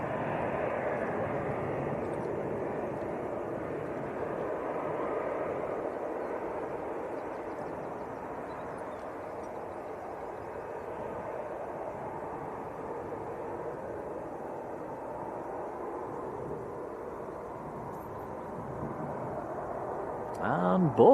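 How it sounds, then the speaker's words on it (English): Two EasyJet jets taxiing out together at Leeds Bradford Airport, giving a steady, distant engine roar that holds evenly throughout. "And both EasyJets taxiing out."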